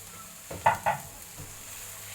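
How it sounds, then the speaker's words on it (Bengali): Kebab masala is stirred in a pan, a few quick scraping strokes with bright sizzling bursts over a faint steady hiss, close and fairly quiet. "এটাকে ভালোভাবে একটু নেড়েচেড়ে নিলাম"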